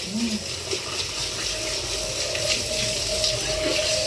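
Water steadily pouring and splashing at home, a continuous broadband gushing close to the listener, with a faint tonal hum running beneath it and no talk.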